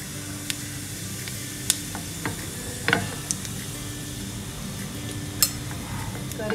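Cumin seeds crackling in hot ghee in a pan for kadhi, a steady dense sizzle with scattered sharp pops and spits, close by, with no one talking.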